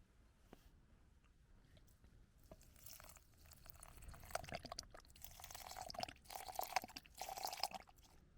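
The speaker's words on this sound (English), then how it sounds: "Let's put the water in and then bring it to the boil." Water poured into a cooking pot at a rainy solo wild camp, a quiet trickling and splashing that builds into a fuller gurgling pour, close and alone.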